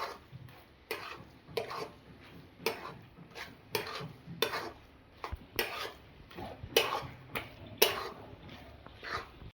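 Dry ground spices are stirred into taro leaf greens in a pan, a spoon scraping and clanking against the metal in roughly a dozen distinct strokes over a faint sizzle.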